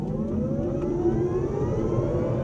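A Kia Niro electric car with 204 horsepower, in sport mode, pulls away with one-pedal driving, giving a rising electric whine that climbs in pitch over road rumble, heard from inside the cabin without talk.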